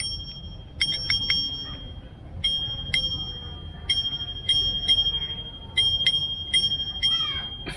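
A Rapala fishing reel spins with a high mechanical whir, broken by sharp metallic clicks in irregular bursts, up close and with no talking.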